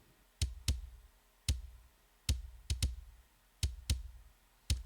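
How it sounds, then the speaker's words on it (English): Punchy kick drum sample from David Bendeth, struck alone about ten times in an uneven pattern, each hit a sharp, bright attack over a short low thump that decays quickly into near silence. "So the kick sample itself sounds like this."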